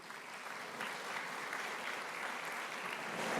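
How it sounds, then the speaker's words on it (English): Luncheon crowd at a Maryland chamber event applauding its sponsors: a continuous, fairly distant roll of clapping from many hands that swells slightly toward the end, with no voices on top. "How about a round of applause for those sponsors"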